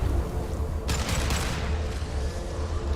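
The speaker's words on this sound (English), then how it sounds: "That guy shot a missile at me." Enemy missile fire in the video game Mass Effect 2: a brief burst of sharp, crackling blasts lasting about half a second over a constant low rumble of game ambience, with no talking.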